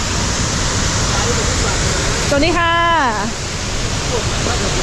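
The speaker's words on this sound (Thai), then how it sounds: "น้ำไหลแรง" Water rushing hard at Tat Ton waterfall in Chaiyaphum, Thailand: a loud, dense, unbroken roar fills the whole clip, and someone speaks briefly over it.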